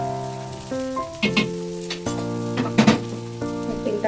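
A breakfast dish sizzles in a generous amount of hot oil as a spatula spreads it around the pan, a steady crackling fry with occasional scraping, set under sustained background music tones.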